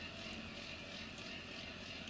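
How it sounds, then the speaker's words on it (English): Tractor engine idling in Farming Simulator 19 during an alfalfa harvest, a continuous even droning hum with a faint whine, steady and unbroken throughout. "You can see that engine up front's running."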